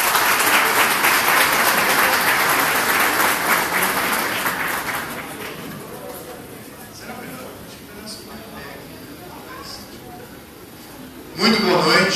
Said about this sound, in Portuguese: Então vamos recebê-lo com uma salva de palmas